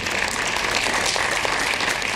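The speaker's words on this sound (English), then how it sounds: "let's give them one more time a huge round of applause" Continuous applause from a concert audience follows a four-hands piano performance of Liszt's Hungarian Rhapsody No. 2, many hands clapping in an even, unbroken wash at moderate loudness.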